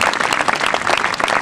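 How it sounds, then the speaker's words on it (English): A crowd claps for a male bald eagle named Archie at a live bird display in Belfast, a brief burst of loud, close, dense applause. "How about a little round of applause there for Archie?"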